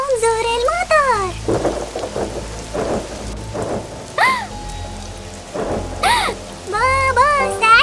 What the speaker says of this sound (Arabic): انظر المطر